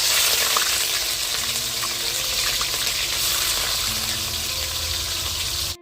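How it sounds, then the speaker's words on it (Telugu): Chicken sizzles steadily in hot oil, a loud, continuous frying hiss close up with faint stirring, then the sound stops abruptly at the end. "నూనె అయితే మంచిగా అయితే వేడెక్కింది అనమాట. చికెన్ వేసుకున్నాము."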